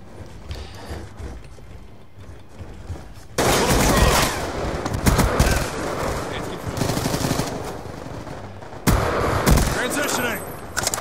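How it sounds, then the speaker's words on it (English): Rapid four-round bursts from an M8A1 rifle in Black Ops 2 Hardpoint on Xbox 360, with loud repeated rattling bursts near and sustained among other battlefield gunfire, some pauses between volleys. "And I've got my M8A1, which is a four burst round."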